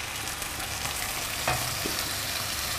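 Onions and cashew nuts frying in oil for a cashew nut pilaf, a steady, dense sizzle throughout with a faint stir or scrape near the middle, close and fairly loud, with no talking.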